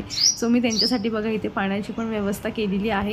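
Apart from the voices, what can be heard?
sparrow chirping on a balcony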